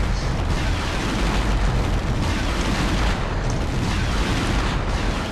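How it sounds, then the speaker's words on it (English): A rocket explosion from a rocket-mounted Triceratops in Turok: Dinosaur Hunter, heard as a dense, loud, continuous blast roar and rumble that fills the whole stretch with sustained booming noise. "A Triceratops with a freaking rocket mounted on its freaking back!"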